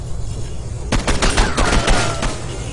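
Gunfire from the video game Condemned 2: Bloodshot erupts as a loud, rapid burst of overlapping shots lasting over a second, then trails off.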